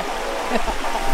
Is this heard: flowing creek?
yes